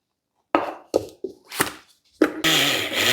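Electric mixer grinding gooseberry powder with sesame seeds, several short pulsed bursts separated by silence, then a continuous louder whirring run, close by.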